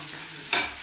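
Chopped onions frying in a pan: a quiet low hum, then a short burst of sizzling as they are stirred, fading within a moment; no talk.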